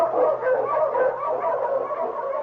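An Eskimo sled lead dog barks and yelps in a continuous stretch, loud and near, with no other sounds around it.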